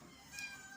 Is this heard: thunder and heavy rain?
no